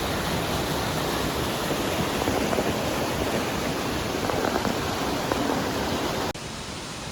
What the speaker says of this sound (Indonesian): Ternyata air terjunnya sangat tinggi.